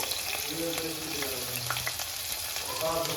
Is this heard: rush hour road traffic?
no